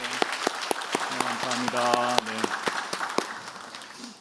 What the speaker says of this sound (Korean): 우리 다시 한번 감사의 박수 하나님께 영광 박수 하도록 하겠습니다